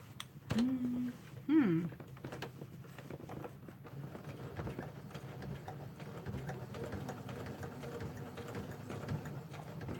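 A sewing machine stitches a water bottle holder in a quiet room, a fast even mechanical patter running steadily for several seconds after a brief vocal exclamation at the start.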